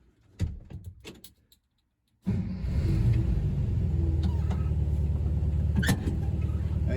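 A 1968 VW Bay Window Bus single cab with newly converted disc brakes starts up after a few door and handling clunks, then its engine settles into a steady, close rumble as it sets off, with a couple of sharp knocks along the way.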